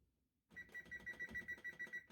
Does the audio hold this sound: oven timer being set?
yes